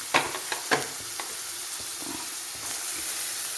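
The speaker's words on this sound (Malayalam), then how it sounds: "ഉപ്പ് ഇട്ട് ഒന്ന് വഴന്ന് വരുമ്പം ഒരല്പം തേങ്ങാക്കൊത്ത് ഇടുന്നുണ്ട്" Onion and coconut pieces with salt sauté in a pan for soya curry, a few quick spatula scrapes at the start giving way to a soft, steady sizzle, quiet and close with no voices.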